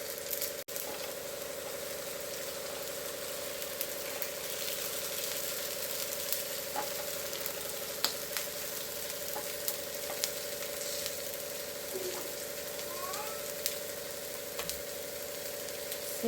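A hot griddle gives off a steady sizzle while Mysore masala dosa batter cooks, an even frying hiss lasting the whole time over a low constant hum, with a few faint clicks.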